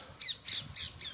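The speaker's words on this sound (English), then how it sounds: "Birds up in the trees." Crows caw from the trees during a hike, four harsh squawks in a quick, even rhythm at moderate distance.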